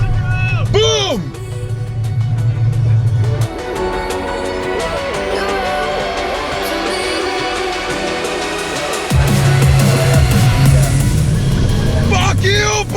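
A car launching hard from a wet patch in a drag race, engine roaring loud and close with rising harmonic sweeps as it gears up, tones dropping and climbing again across the run.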